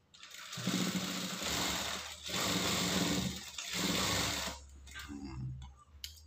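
Sewing machine stitching the front seam of high-school uniform trousers, running in three or four steady bursts of whirring with short pauses between, close and fairly loud, then stopping into quieter handling noise.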